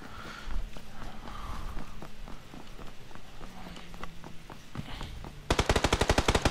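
Rapid automatic gunfire from PUBG on the Miramar desert map cracks out in a dense, loud burst at the end, after scattered distant shots and footsteps.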